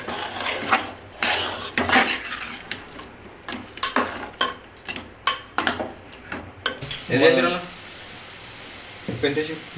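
Chicken gizzard fry is stirred in a pan, with repeated scraping and clinking strokes of a spoon against metal over a soft background, while a person talks throughout.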